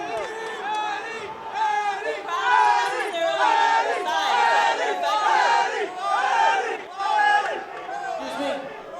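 A large crowd at a UFC 205 press conference for a fight between two fighters shouts and roars loudly and continuously, with chanting voices rising and falling in waves for the whole stretch.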